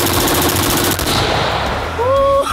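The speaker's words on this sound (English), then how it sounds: "There is nothing better than ending a range day with some full auto fun." A full-auto machine gun fires at a shooting range, a loud, rapid continuous burst that rattles on for about two seconds before cutting off.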